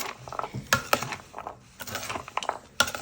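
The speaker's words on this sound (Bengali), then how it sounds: "ভালো করে নেড়ে নেব" Salad being stirred and mixed in a bowl, giving a run of irregular clinks, scrapes and clatters of utensils against the dish, close and fairly quiet, with short pauses between strokes.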